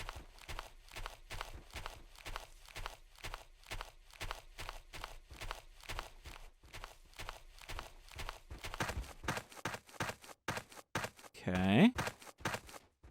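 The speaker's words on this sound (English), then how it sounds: "Oh, now I hear footsteps." Rapid, even footsteps in the Trespasser video game at the InGen Water Treatment Plant, steady repeated treads close by, with one louder thump near the end.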